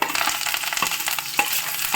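Steady sizzling of garlic, onion and curry leaves frying in hot oil, with occasional stirring scrapes and light clinks close by; no voices.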